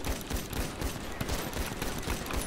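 Rapid bursts of gunfire from a GTA roleplay video game, loud and continuous with repeated sharp shots in quick succession, no talking over it.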